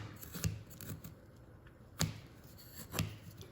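A knife cuts and peels skin off vegetables with a few sharp, crisp strokes at irregular intervals, faint and close, over soft handling noise.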